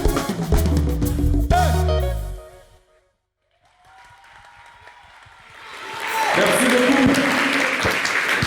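Applause breaks out from a TV studio audience, swelling up loud after music fades to a brief silence, a thick crowd clapping near the end.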